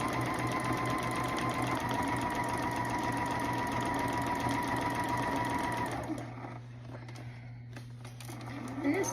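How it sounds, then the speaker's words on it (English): A Juki HZL-F600 sewing machine stitches denim for a jacket with a fast, steady whirring hum for about six seconds. It then stops, leaving quiet room sound and a faint hum. "this machine, the HZL F600 Juki, it's not a bad machine"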